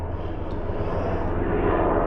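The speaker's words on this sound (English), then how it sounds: "Army and Air Force aviation flying overhead." Army and Air Force aircraft fly overhead in the flight pattern beside Joint Base Lewis McChord, a steady, loud engine rumble that fills the whole moment without pause.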